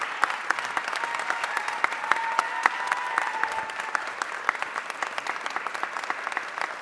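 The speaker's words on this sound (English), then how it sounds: "a round of applause" An audience at a mayor's press conference applauds steadily, a continuous patter of many hands clapping at close range for about seven seconds with no voices over it.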